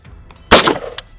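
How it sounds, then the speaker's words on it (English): A single loud firearm gunshot cracks out at an American shooting range, fired close by, its sharp report followed by a short ringing decay and a smaller clink near the end. "And when you're ready to shoot, just shoot."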